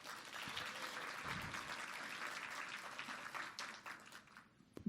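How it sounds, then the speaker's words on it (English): An audience applauds at a morning business networking event as local government officials are introduced, a steady wash of many hands clapping throughout before fading near the end. "If we can give them all a round of applause."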